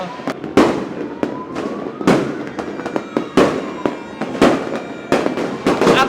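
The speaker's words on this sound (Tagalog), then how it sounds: "Ang ganda ng fireworks" Fireworks at a New Year celebration, sharp booms and crackling bursts going off one after another in an irregular rhythm, loud and fairly close, with a dense crackle filling the gaps between the bigger blasts.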